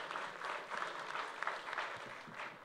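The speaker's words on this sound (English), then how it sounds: "Can we have a huge round of applause for our panel members?" An audience at an HR leadership panel session gives the panel members a round of applause. The clapping is faint and dense, sounding distant and steady for a few seconds.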